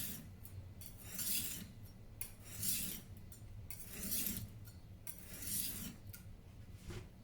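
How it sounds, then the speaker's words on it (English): A kitchen knife drawn across the fine-grit side of a whetstone in slow, even strokes, about five rasping swipes spaced a little over a second apart, close and quiet with no talk. "flip it over, and now I've got my fine grit exposed, and we'll do a few runs on the fine grit."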